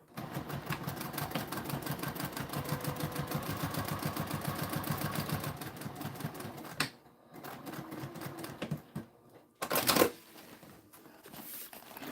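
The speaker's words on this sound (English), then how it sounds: "I'm gonna sew this up right." A sewing machine stitches fabric in a rapid, even mechanical chatter for several seconds up close, then pauses, followed by a few quieter handling clicks and a short louder burst.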